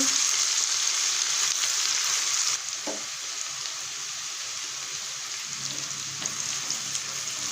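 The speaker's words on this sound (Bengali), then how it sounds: "একটু লাল লাল করে ভেজে নিতে হবে" Tengra fish fries in hot oil, giving a loud, dense, continuous sizzle that drops a little in level partway through and carries on steadily without any talk.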